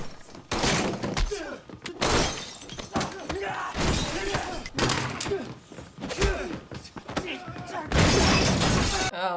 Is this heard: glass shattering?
yes